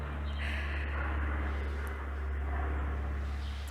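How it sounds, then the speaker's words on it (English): A steady, low droning roar of a plane passing overhead, holding fairly constant throughout with a broad rumbling hum and no voices. "allowing this noisy airplane to pass."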